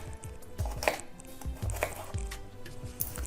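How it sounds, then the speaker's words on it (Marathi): A knife slices spiny gourd (katurle) lengthwise on a board, a few soft dull cuts and squishy thuds spaced out, close and fairly quiet. "हे कटोरले असे कापून घ्यायचे उभे बघा"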